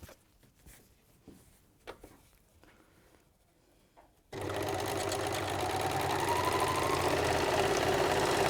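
A domestic sewing machine runs steadily for several seconds, a loud continuous whirring stitch that starts abruptly after a quieter stretch of faint handling noises.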